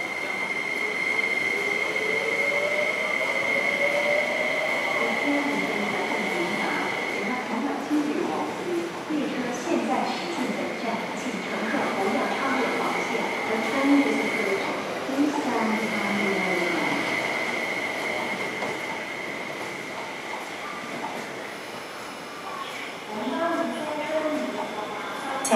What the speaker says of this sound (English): A 7 car train to Meifu is arriving.